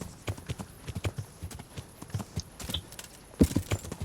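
Horse hooves clip-clop in the video game Kingdom Come: Deliverance, a quick, uneven run of close hoof strikes that ends in a louder cluster of thuds.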